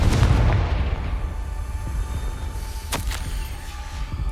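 Confringo fire spell exploding in Hogwarts Legacy, a loud booming blast up front that decays into rumbling debris, with a couple of sharp cracks later and no voices.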